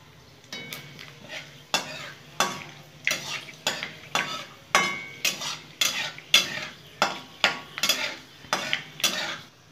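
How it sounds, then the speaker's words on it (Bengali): Dried red chilli tempering in hot oil for a tamarind pickle, with a spatula scraping and clattering against the pan in a steady rhythm of a dozen or so sharp strokes over a faint background sizzle. "একটা শুকনো লঙ্কা ফোড়ন দিয়ে দিলাম।"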